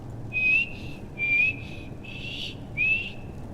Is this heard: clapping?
no